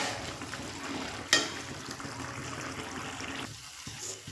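Chickpea curry with mashed boiled potato sizzles in a pan as it is stirred and pressed, a steady close frying hiss broken by one sharp utensil knock, then quieter scraping.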